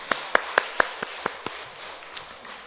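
A small weekday mothers' prayer meeting in a church claps after a prayer, a short run of sharp, separate claps in quick succession that fade after about nine strikes, fairly close over a quiet room.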